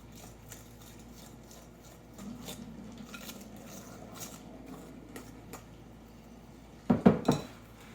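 Mixture stirred with a fork in a bowl while making cookie dough, a low, soft scraping churn that rises mid-clip, then a few louder clinks of utensil against bowl near the end.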